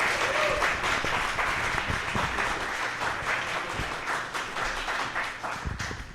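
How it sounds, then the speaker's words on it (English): Live podcast audience in Houston giving a round of applause, steady, even clapping from a sizable crowd held for several seconds and slowly tapering. "Another round of applause for Woodja,"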